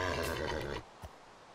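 A horse in the Minecraft video game gives a short, loud whinny at the start, and then quiet game ambience follows.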